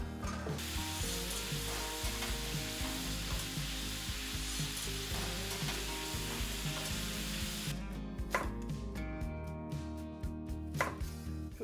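Food sizzles in a cast iron skillet during home cooking, a dense continuous crackle with rhythmic chopping-like clatter over it, then a quieter stretch with a few sharp utensil knocks near the end.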